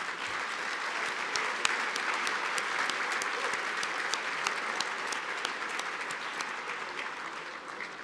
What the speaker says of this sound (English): let's have a big round of applause for all of these supporters